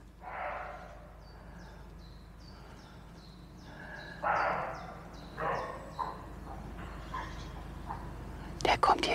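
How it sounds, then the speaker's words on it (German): Roe deer buck barking in a forest, several short hoarse barks at intervals, moderately distant, with a person whispering in between. "Da bellt ein Rehbock."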